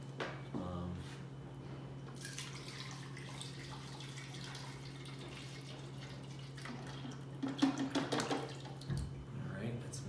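Water is poured from hemispheres into a pouring container, giving a steady running, splashing flow with a few louder gurgles and splashes near the end, under a faint background hum.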